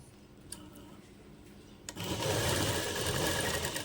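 A sewing machine stitches a lehenga blouse, tacking down a decorative cord at two-inch intervals. After a quiet start, the motor kicks in near the halfway mark with a close, steady, rapid whirring hum that runs unbroken to the end.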